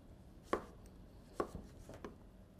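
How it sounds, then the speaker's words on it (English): Knife cutting zucchini or squash into half moons on a board, three or four soft, separate chops spaced apart, close and quiet with no voices. "And all you have to do is cut it in a half moon and then make slices from there."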